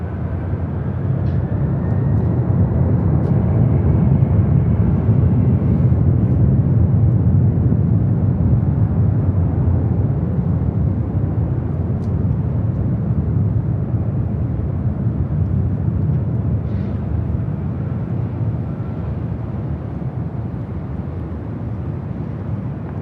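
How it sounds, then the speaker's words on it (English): Delta Airlines Boeing 767-300ER taking off from LAX toward Honolulu, a sustained low engine roar that swells and then slowly eases, heard from a distance without speech. "This is Delta Airlines 465 taking off to Honolulu on a 767-300ER."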